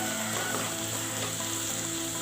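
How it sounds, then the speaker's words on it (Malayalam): A frying mixture with turmeric powder is stirred in a pan while kappa upma is being made, producing a steady sizzle with faint scraping beneath it. "എന്നിട്ടൊന്നും കൂടി ഇളക്കാം"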